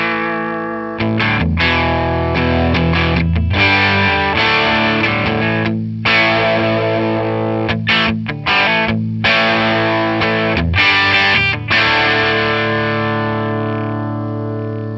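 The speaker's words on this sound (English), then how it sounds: "This is where I find that this amp starts to achieve the sweet spot in terms of power amp distortion." Tube guitar amplifier with its dial at about 5, driven into power-amp distortion through an attenuator, playing loud, sustained overdriven chords and riffs with short breaks between phrases.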